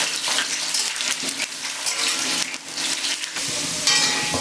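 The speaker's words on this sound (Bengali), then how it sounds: "এখন এর মধ্যে আমি দিয়ে দেবো কেটে রাখা আলুগুলোকে আমি ছেড়ে দেবো" Cut potatoes drop into hot mustard oil and fry with a loud, dense, hissing sizzle that swells and shifts as the pieces are stirred, with no talking.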